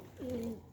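A pigeon gives a single short, soft coo, close and clear against a quiet background.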